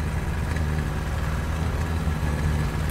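Steady low engine drone of a Spade vehicle in War Thunder, a continuous mid-to-low rumble held at an even level without break, like a motor idling or pulling under steady load.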